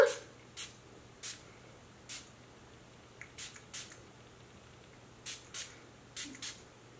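Short, soft hissing bursts of a facial mist spray repeat at irregular intervals, about a dozen in all, close by in a quiet room.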